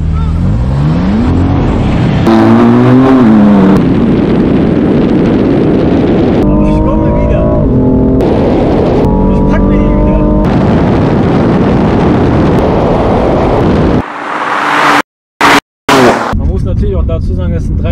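A BMW M4 Competition and an M340i launch in a drag race, engines roaring and rising through gear changes with loud pops and bangs, close and powerful, with brief dropouts near the end.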